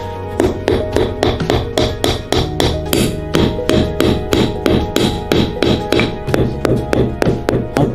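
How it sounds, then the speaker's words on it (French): A frozen banana used as a hammer in a bitterly cold town gives a rapid, steady run of sharp, loud taps, dozens of hard knocks in even rhythm with no voices. "Les gens d'ici peuvent même utiliser des fruits congelés comme marteau quand ils en ont besoin."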